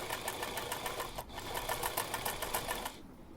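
A sewing machine runs steadily on fabric with a fast, rhythmic stitching patter at close range, then stops abruptly near the end.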